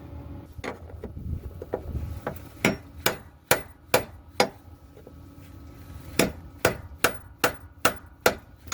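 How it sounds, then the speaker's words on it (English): Sharp metallic hammer blows strike a punch to turn the fuel pump ring on a 2004 Ford Explorer Sport Trac, in a steady series, loud and close, with a short pause midway before the rhythmic tapping resumes. "take a hammer and hit this punch, and it should start to spin counterclockwise"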